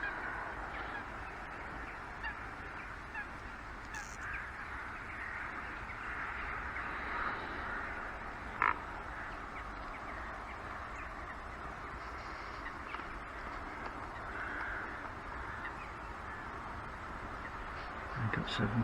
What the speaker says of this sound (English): Large group of gulls in the middle.